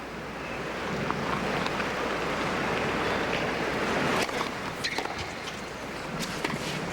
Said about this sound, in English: There's that wind gusting.